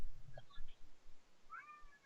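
A house cat meows indoors, two short soft calls close by in a quiet room, one early and one near the end.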